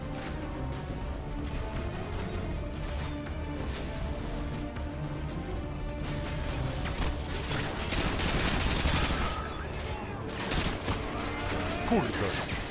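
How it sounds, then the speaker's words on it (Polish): Rapid bursts of gunfire from all sides in the video game Call of Duty: Modern Warfare 2, dense and continuous crackling shots with heavier crashes mid-way, filling the scene without a break. "Strzelają mnie. Z każdej strony."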